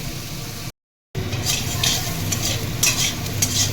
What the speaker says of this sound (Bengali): আমি পেঁপে আলুকে একটু ভাজা ভাজা করে নেব